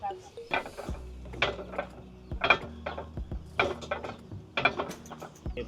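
A manual wooden press for cassava paste being raised, used in making traditional attieke in Ivory Coast, gives a string of loud creaking, clunking mechanical knocks in an uneven rhythm, close by and with no speech.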